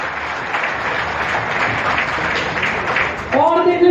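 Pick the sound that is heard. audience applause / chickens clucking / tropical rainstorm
audience applause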